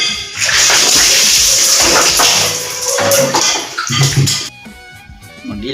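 Water pours and splashes loudly and steadily for a bath, close up, then breaks off into quieter drips and clatter near the end.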